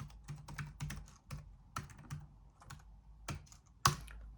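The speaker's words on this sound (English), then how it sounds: "we just need to type in our URL" A URL being typed on a computer keyboard, a quick run of close, crisp key clicks in uneven bursts with short pauses, ending in one sharper, louder keystroke.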